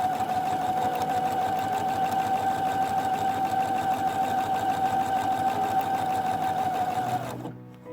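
A sewing machine runs steadily, stitching doll leggings with contrasting yellow thread, its fast even hum holding for about seven seconds before it stops near the end.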